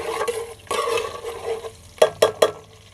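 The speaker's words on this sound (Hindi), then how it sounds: "लहसुन डाल दिया है। अच्छी तरह के इसको भून लेते हैं।" Garlic fries in a pan for an aloo shimla mirch dish, a soft sizzle broken by a few sharp stirring scrapes and taps of a utensil against the pan, close by with no talking.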